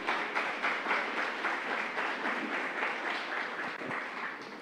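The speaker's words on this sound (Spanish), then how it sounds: "Denle un voto de aplauso al que vive por los siglos de los siglos" A church congregation at a missionary congress applauds, producing a sustained, even wash of many hands clapping with a faint rhythmic pulse and no talk over it.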